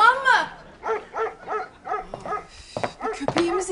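A dog barks and yips in a domestic scene, several short rhythmic barks close by, mixed with people talking.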